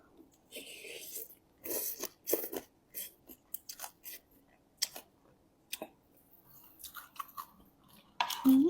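Someone chews sticky rice close to the microphone, with soft irregular bites and mouth sounds spread across the stretch, quiet and intimate, no talk heard.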